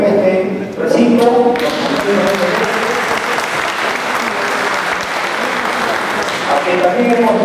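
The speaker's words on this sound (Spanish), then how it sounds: "fuertes palmas al congresista Ferreira que nos acompaña en este recinto" Loud, sustained applause fills a hall at the Peruvian Congress for a congressman, many hands clapping close and dense, with a voice speaking briefly at the start and again as the clapping carries on at the end.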